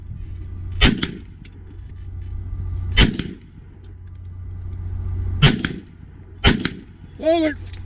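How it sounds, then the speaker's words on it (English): Four sharp, loud .308 rifle shots spaced a couple of seconds apart outdoors, each followed by a ringing metallic hit on a steel spinner target, with a brief whistling warble at the end. "Shooting a rifle spinner in 308 is so enjoyable."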